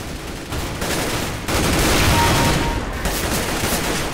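Gunfire in Counter-Strike: Global Offensive: dense, loud rapid shots blur into a sustained barrage that briefly dips, then resumes heavier, with no talk.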